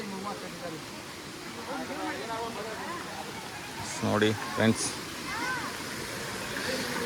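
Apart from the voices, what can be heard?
flowing stream water near Yana caves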